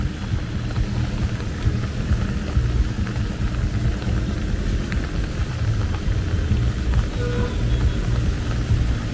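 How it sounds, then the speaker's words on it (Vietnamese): Rain falls on a busy Saigon street at night as a dense, steady hiss with low rumbling traffic underneath, constant and fairly loud throughout. "vội nhanh như về nhà trốn những cơn mưa như thế này"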